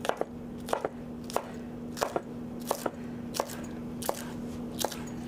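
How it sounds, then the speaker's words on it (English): A knife chops food into roughly 1-inch chunks on a cutting board, with about a dozen sharp, evenly spaced knocks at a steady rhythm, close and clear over a faint background hum. "you can just cut it into about 1-inch chunks"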